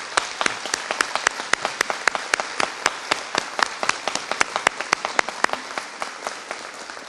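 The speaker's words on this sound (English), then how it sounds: "Can we give the new officers a round of applause for all that they've gone through?" Applause from a crowd at a corrections officer graduation ceremony, a fairly sparse, steady clatter of individual claps that keeps going and thins out slightly toward the end.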